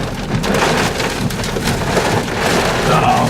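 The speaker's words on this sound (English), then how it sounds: "Oh, here comes the rain." Heavy rain pours down during a tornado storm in Caldwell, Kansas, a loud, dense, unbroken roar of drops pounding close by, with no voices.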